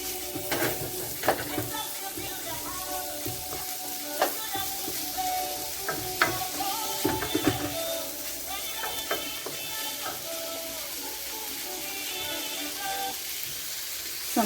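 Shrimp frying Jamaican style in a pan over sautéed seasoning, a steady close sizzle throughout with occasional stirring scrapes and clinks, no talking.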